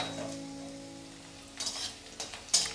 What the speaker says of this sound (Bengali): এবার আমি আলুর মধ্যেই ফোড়ন দিয়ে নেব। এখানে নিয়ে নিয়েছি দুটো শুকনো লঙ্কা, একটা তেজপাতা, দু টুকরো করে, আর নিয়ে নিয়েছি হাফ চা চামচের মতো গোটা জিরে